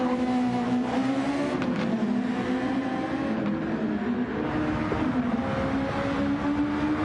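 A race car engine drones loudly and steadily in a racing video game, a continuous sustained whine with slight pitch shifts, alone without speech.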